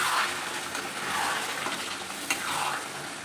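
Marinated mutton sizzles in oil in a wok as it is stirred, giving a steady close frying crackle with soft swishing and scraping from the stirring.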